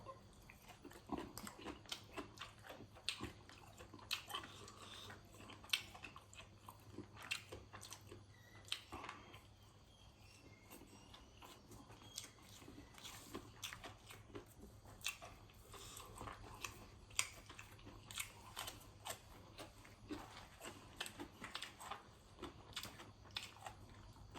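Spicy apple snail papaya salad being eaten up close, with a steady run of wet crunching bites and chewing over a faint background hum; no one talks.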